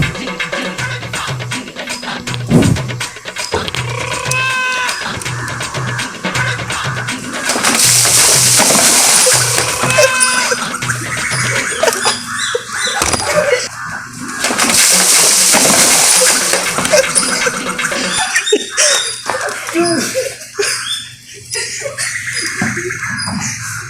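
Water is poured from a bucket in an ice bucket challenge prank: two loud, rushing splashes, each lasting about two seconds and several seconds apart, over music and voices talking in the background.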